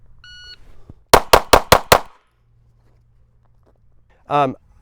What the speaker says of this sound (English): we'll go on the beep and we'll shoot this gun 5 rounds center mass